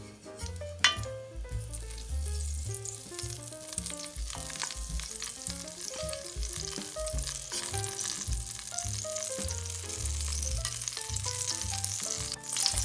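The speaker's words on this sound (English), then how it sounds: "And I'm also going to be adding my 1 tablespoon of butter. We're going to let that melt." Butter melting in olive oil in a pot over medium-low heat for chicken noodle soup, a soft continuous sizzle heard faintly under background music, with no talking.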